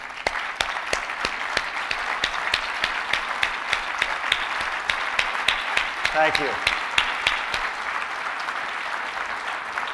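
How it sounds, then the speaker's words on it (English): Sustained applause from an audience at an award dinner, dense steady clapping with some sharper claps, running the whole span; a brief spoken thanks is heard over it. "And let's give a big applause."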